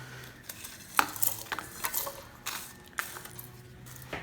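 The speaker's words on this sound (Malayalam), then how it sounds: "ഇനി നമുക്ക് ഈ മസാലയുടെ കൂട്ടെല്ലാം ആ ബൗളിലേക്ക് ഇട്ട് കൊടുക്കാം." Whole garam masala spices for Kerala-style powder tip into a grinder bowl, giving several light clattering, rattling impacts over a few seconds with brief pauses in between, fairly close and alone.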